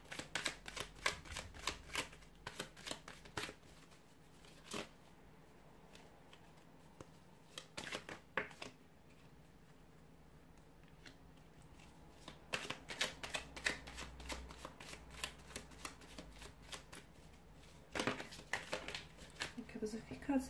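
A deck of tarot cards is shuffled in several bursts of quick riffling and flicking, close and fairly soft, with quieter pauses between the runs.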